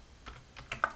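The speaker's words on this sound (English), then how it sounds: "we're going to go to search and we're going to type in our model number" Computer keyboard typing in a model number, a handful of quick light keystrokes close by, soft clicks with one sharper final tap, no talking.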